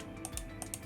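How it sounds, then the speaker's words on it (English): Arrow keys on a computer keyboard pressed a few times in quick succession, light close clicks in a quiet room. "I'm only going to use the arrow keys on my keyboard."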